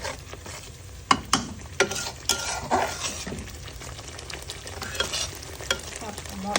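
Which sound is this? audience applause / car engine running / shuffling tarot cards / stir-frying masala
stir-frying masala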